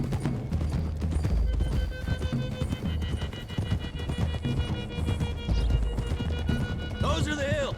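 Galloping hooves in Red Dead Redemption 2 pound steadily beneath a dense, busy game soundscape with music, and a horse whinnies near the end.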